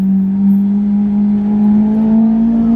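A Lamborghini Aventador supercar creeps through slow, jammed traffic on the single street of Juan-les-Pins, its engine holding a steady, loud, close drone with a low tone that rises slightly toward the end.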